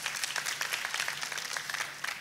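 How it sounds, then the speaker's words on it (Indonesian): A church congregation gives a brief burst of lively applause, many hands clapping densely at moderate volume for a couple of seconds. "kita kasih tepuk tangan yang paling meriah."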